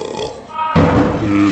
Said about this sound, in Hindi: ऐसे भी कोई डकार मारता है, और वो भी वीडियो निकालते टाइम।